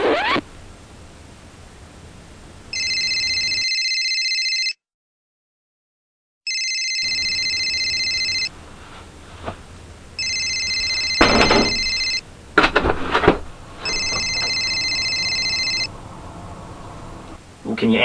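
A telephone rings in repeated electronic bursts, each a steady trilling tone lasting about two seconds with pauses between them, while sharp clicks and a voice sound in between.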